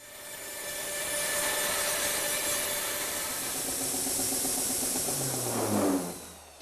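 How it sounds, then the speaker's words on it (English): Bandsaw cutting a wooden coffee table leg, a loud continuous whining drone with a rough cutting rasp, rising slightly before the blade exits and the motor tone drops. "I'll rough it out at the bandsaw and then sand it back to the line at the sanding station"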